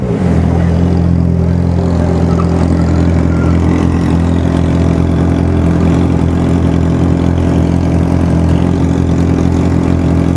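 Motorcycle engine and exhaust, a Yamaha XJ6 alongside a Honda Hornet, rumble steadily and loudly at close range with a continuous idle-like drone throughout.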